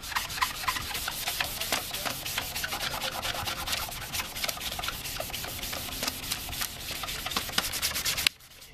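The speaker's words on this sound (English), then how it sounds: "You want to sand until there's no more yellow dust coming off of this headlight." A sanding block scrubs a cloudy car headlight in fast, even back-and-forth strokes. The close, rasping rub continues steadily, then stops abruptly at the end.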